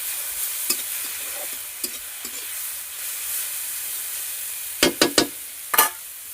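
Gima greens fry in a pan with a steady soft sizzle and hiss, broken by sharp taps and scrapes of a spatula near the end; no voices.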